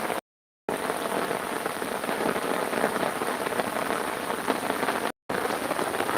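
Heavy monsoon rain pours down steadily over waterlogged farmland in Palghar, India, in a dense, hissing roar that barely changes, broken by two brief moments of silence.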